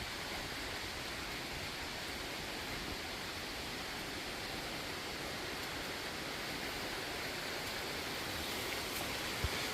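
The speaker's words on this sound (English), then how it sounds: "There's the waterfall there" A steady, broadband rush of falling water at Ohiopyle State Park, Pennsylvania, continuous and even, heard from some distance with no other sounds.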